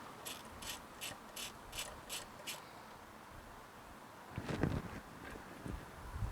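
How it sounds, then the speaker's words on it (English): A 12mm ratchet wrench clicks in quick, evenly spaced bursts as it loosens a bolt in the engine bay of a Mitsubishi 3000GT, close and crisp, followed by clunky handling of the tool and parts. "Then onto your 12mm wrench."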